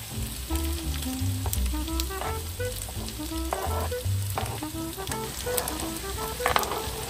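Onion, garlic and pasta fry in a pan outdoors on a fishing trip, a steady close crackling sizzle with scattered pops and occasional stirring scrapes, alone without talk.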